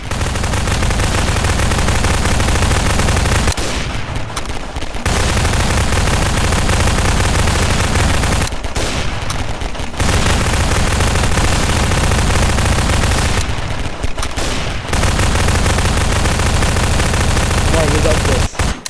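Sustained automatic gunfire in the Garry's Mod Flood game, loud and dense rapid fire that cuts out briefly three times before resuming.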